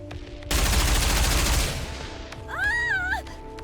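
A loud, sustained burst of rapid gunfire from a volley of rifles in the video game Old Tales, crackling for about a second before tailing off, followed by a rising, wavering cry.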